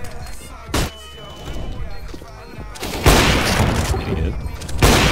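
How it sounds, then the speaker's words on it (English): Flashbang grenade detonating in a video game shootout, a loud sharp burst followed by gunfire-like cracks and rumble, with players talking over the action. "Flashbang."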